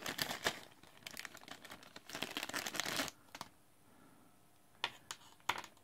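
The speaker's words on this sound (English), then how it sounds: "Oh, the grounding wire. Let me unwrap it quick." Crinkly packaging being unwrapped from around the grounding wire of a TS100 soldering iron, a few seconds of close rustling and crackling, then a pause and several brief sharp crinkles.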